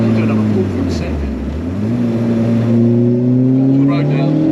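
A turbocharged 1.8T 20V SEAT Arosa accelerates hard, its engine note rising steadily through the revs in one long, loud pull heard from inside the car, with a gear change partway through.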